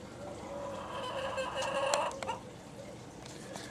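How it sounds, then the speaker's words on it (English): Backyard hens cluck and call in a short, moderately close burst of bird sounds, with a faint wash of pond water running steadily underneath. "And yes, you do hear a chicken."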